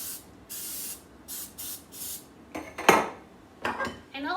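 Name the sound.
cooking spray sprayed into a muffin tin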